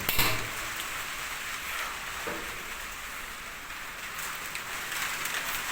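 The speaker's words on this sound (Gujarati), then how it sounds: "અત્યારે આપણે હતા ઢારિયામાં બધું વરસાદ ચાલુ થયો" Steady rain patters and hisses continuously on surfaces nearby, a dense even wash of drops with no voices.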